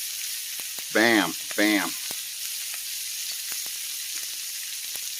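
Bacon sizzling steadily on a Camp Chef griddle set to its lowest temperature, a close, constant crackling hiss that runs throughout, briefly overlaid by a short spoken interjection.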